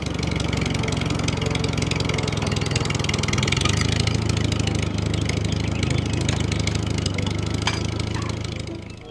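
A toy tractor's engine sound idles and chugs continuously, steady and loud, with a slight shift in pitch partway through, then fades at the end.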